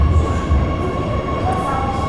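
A Shanghai metro train runs with a steady low rumble and a faint tonal whine throughout, close and continuous.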